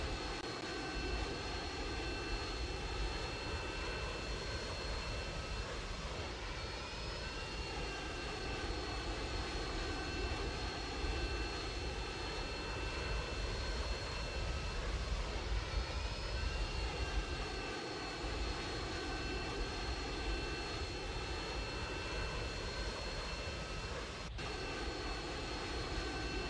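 An airplane engine in the Roblox game Mad City drones steadily and loudly throughout, a continuous whine with sustained tones that rise and fall slightly as the plane flies, with no talking.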